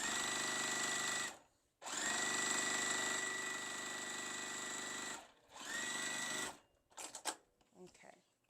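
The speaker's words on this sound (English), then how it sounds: "going to sew my strip, then cut to size to get that perfect 4 patch" Sewing machine stitching a fabric strip for a quilt block, loud, steady motor whir in several long continuous runs separated by short pauses, then a few brief irregular clicks and rustles at the end.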